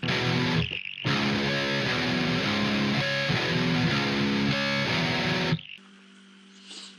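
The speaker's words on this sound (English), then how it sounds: "An open power chord, harmonic, distorted." Electric guitar riff played alone: a ringing open power chord, then a harmonic and a heavy distorted power chord, loud and sustained for about five seconds before cutting to a quieter tail.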